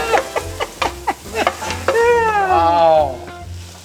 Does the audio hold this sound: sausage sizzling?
yes